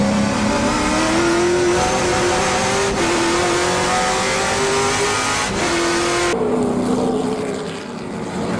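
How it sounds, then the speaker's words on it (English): A highlighter-yellow TA2 race car runs on track at Road America, its engine a loud, close, sustained roar that climbs in pitch and drops at each gear shift, then carries on near full throttle. "Here comes Brian Newman in that highlighter yellow car"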